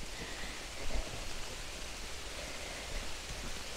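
Heavy rain falling in a forest, a dense, even hiss of drops on leaves and ground with a few soft knocks, steady and fairly faint throughout.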